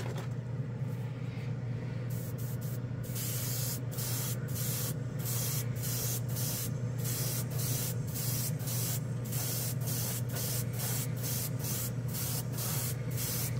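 A Gaahleri airbrush sprays paint onto a spoon in a steady hiss over a constant low compressor hum, cut into rapid repeated short bursts as the trigger is pulsed, with no talking.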